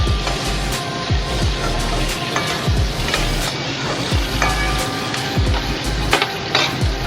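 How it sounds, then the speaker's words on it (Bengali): Potatoes and koi fish sizzle loudly in a pan of oil, with a dense, constant crackle broken by repeated scraping strokes of a spatula stirring the potatoes, close up and with no voices. "আলুটা আবার একটুখানি নাড়াচাড়া দিলাম"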